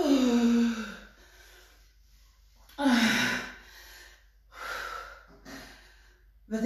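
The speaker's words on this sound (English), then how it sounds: "I'm really out of breath." Heavy, ragged breathing bursts from someone winded by a nonstop set of jumping jacks, with several loud gasping exhales separated by quieter pauses, close to the microphone and without speech.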